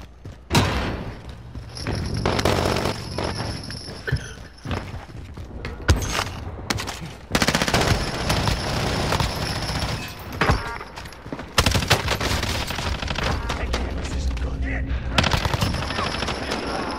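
Near, loud automatic gunfire in a multiplayer shooter quads match, with sustained machine-gun bursts and scattered single shots and thuds across the whole stretch, overlapped by faint talk.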